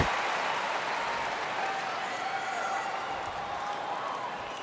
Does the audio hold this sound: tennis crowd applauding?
yes